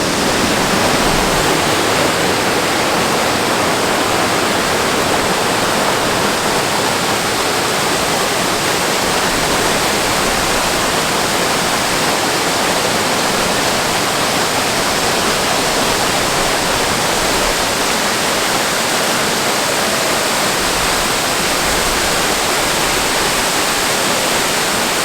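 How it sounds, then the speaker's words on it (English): Virginia Falls in Glacier National Park, a loud, steady roar of falling water heard up close, unbroken and without any voices throughout. "So we went ahead and hiked up to the other set of waterfalls here."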